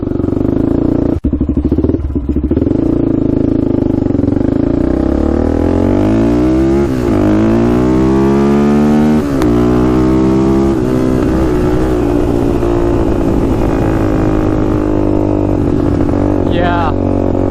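A Honda 400ex quad's warmed-up engine idles and revs steadily nearby, a loud continuous buzzing drone with rising and falling pitch sweeps as the throttle changes, dominating throughout with a brief clank early on.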